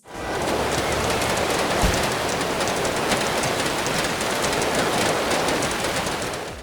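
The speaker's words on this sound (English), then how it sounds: "Take barrels, which make a sound of rain falling down on metal" Rain pours steadily onto metal barrels in GTA 4, a continuous dense hiss with faint pinging taps, even in loudness throughout and without speech.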